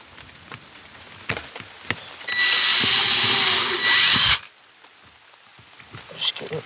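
A power drill bores holes in a DIY rawhide dog chew sheath, a loud high whine lasting about two seconds that rises in pitch before stopping, with scattered handling clicks before and after.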